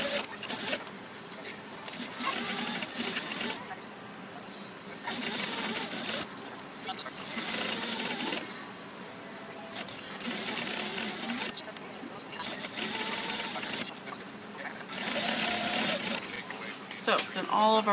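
Sewing machine stitching along a rolled fabric edge, bursts of rapid mechanical whirring that start and stop repeatedly, close by, with a person talking between runs.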